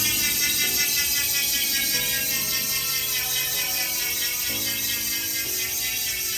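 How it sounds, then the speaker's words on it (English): Road bike freehub with a 54-tooth ratchet and DT Swiss 370 internals on a Specialized S-Works Aethos, giving a steady, fast, even buzz of clicks while coasting, close up and alone for several seconds. "You're gonna hear the 54 tooth ratchet and the DT Swiss 370 internals."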